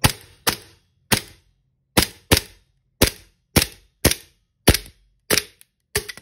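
A WE M1911 gas BB pistol fires about eleven sharp, snappy shots in an uneven rhythm, each a close, crisp crack with a quick decay and no talking between them.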